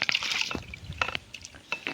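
Rice being washed in water on a metal plate outdoors by the Tilsa river: wet sloshing and splashing come in short bursts, with drips and squishy swirls in between.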